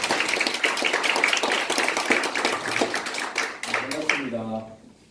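An audience at a debate claps in dense, steady applause that tapers off near the end, followed by a brief tonal sound as it fades.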